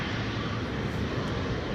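A KLM airliner bound for Lima, a nine-year-old plane, at Amsterdam Schiphol Airport during a storm: a steady, broad roar of jet engine and wind, continuous and moderately distant with no pauses.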